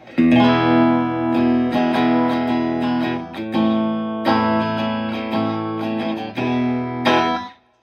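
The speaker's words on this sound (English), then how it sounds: "that is the Vibro Champ Reverb" A guitar played through a Fender '68 Vibro Champ Reverb amp rings out in sustained, reverb-laden chords and notes, loud and close, with a few brief pauses between phrases and a final chord fading out.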